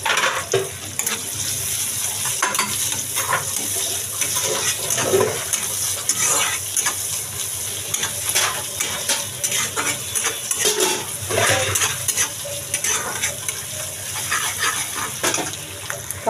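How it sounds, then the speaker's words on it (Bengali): Black cumin seeds and chopped onion sizzle steadily in hot oil in a pan. The frying hiss is close and continuous, with occasional clinks and stirring sounds and no talking. "এই যে দিয়ে দিলাম একটু কালো জিরা, সামান্য একটু পেঁয়াজ কুচি দিলাম"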